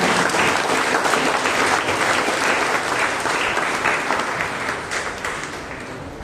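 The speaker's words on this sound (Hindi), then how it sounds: "Let's give a mighty hand to the Lord." An audience in a church worship service claps together in sustained, dense applause that starts strong and gradually tapers off toward the end.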